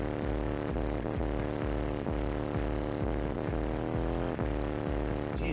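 A Sundown Audio subwoofer slams bass inside a Cavalier car, giving loud, continuous, booming low-end music with regular thumping pulses that fill the whole stretch.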